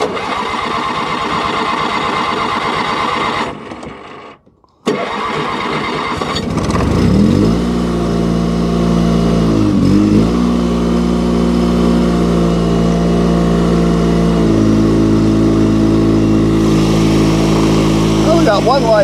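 A liquid-cooled Honda motorcycle engine cranks, catches and settles into a steady idle, with a few blips of the throttle raising the revs. It is close by and loud, and a voice talks over it at the start.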